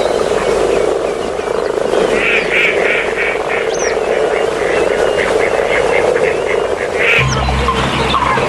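Grass frogs in a floodplain give a rhythmic series of croaking calls that rise above a constant hum. A narrating voice runs steadily over the calling and a low tone comes in near the end.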